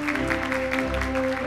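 An audience claps for an army sergeant receiving an excellence award at a soldiers' lecture contest, dense continuous applause under a steady tonal hum.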